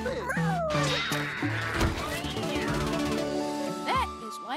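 A cartoon cat meows and yowls several times in quick succession, drawn-out rising and falling cries mixed with music and voices from an animated commercial break.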